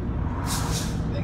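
A small school bus lets out a brief air-brake hiss in traffic, heard from a passing car over a steady road rumble, with voices nearby.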